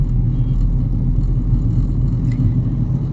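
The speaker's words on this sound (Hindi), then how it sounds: "गाड़ी कैसे जूम करके निकल लेती है" A car speeds along a highway at around 100 and up, its engine and road rumble droning loud and continuous from inside the cabin.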